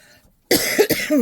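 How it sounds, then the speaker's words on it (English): A single loud cough bursts out after a quiet pause, followed by a couple more harsh coughs close to the mic. "I do apologise for the coughing and sneezing."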